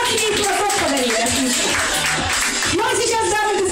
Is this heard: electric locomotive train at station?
no